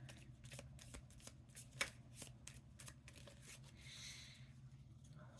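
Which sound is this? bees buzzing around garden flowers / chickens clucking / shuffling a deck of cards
shuffling a deck of cards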